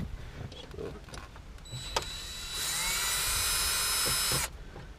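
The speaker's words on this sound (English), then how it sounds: "There's just kind of a couple screws we're going to take out real quick." A power screwdriver or drill whirs for about two seconds while screws are removed from the dashboard of a 2005 Nissan Sentra, close and fairly loud, with faint handling clicks and rustles before and after.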